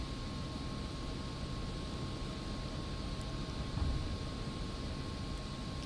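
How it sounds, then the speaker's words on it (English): An F-86F Sabre jet takes off in the DCS flight simulator, its engine giving a steady, loud broadband roar with a constant hum and little change throughout. "And that is a takeoff in the F-86 Sabre."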